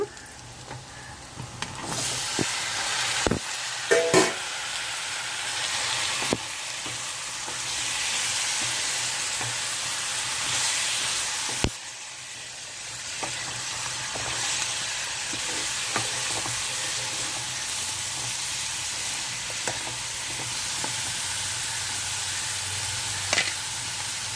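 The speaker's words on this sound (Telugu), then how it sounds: "దోసకాయలు వేసేసుకుందాము" Cucumber pieces frying with onions in a pan for a dry prawn curry, a steady close sizzle with scattered stirring clatters and spoon knocks running throughout.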